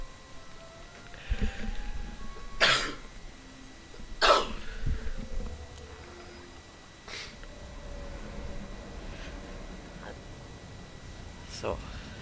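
Several harsh, separate coughs and throat clears from one person, close and loud, with short gaps between them, over game audio and some murmured talk.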